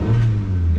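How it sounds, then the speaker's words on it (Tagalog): A car engine hums in a steady, close, low drone that holds at a constant pitch without talk, like a motor being held at raised revs for a moment. "Ganditin muna natin ang ating makina."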